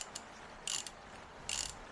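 A large spanner ratchets on a widebeam narrowboat's engine during a service, giving two short bursts of sharp, close clicking separated by a pause in a quiet space.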